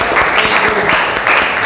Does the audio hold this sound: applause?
yes